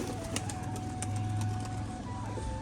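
Rajshahi pigeons coo softly in a loft, low throaty calls repeating under a busy background of rustling and clicks, close but not loud.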